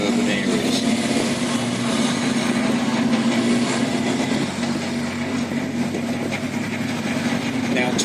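The 1,200 brake horsepower engine of a Titan armoured bridge-layer at Tank Fest 2019 rumbles steadily throughout with a deep, heavy, strong low drone, close and loud, with some background noise layered over it.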